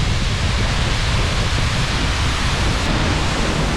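A roaring Icelandic waterfall heard from behind the falling water, a loud, dense, unbroken rush that fills every moment without a pause.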